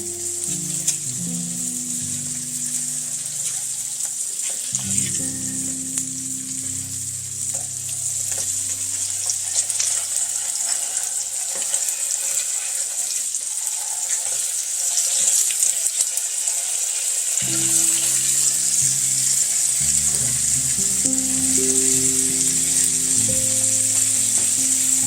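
Chicken for tacos frying in a pan, a steady close sizzle throughout, with soft stirring and a few clinks as the pieces are turned over.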